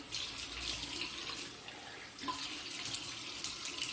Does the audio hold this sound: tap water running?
yes